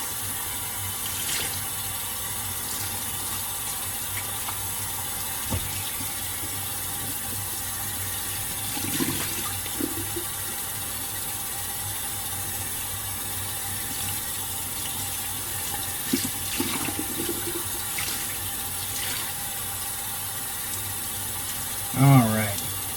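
A qiviut smoke-ring garment rinsed under a sink tap, steady running water with occasional splashes and sloshing as the knit is handled, louder near the end.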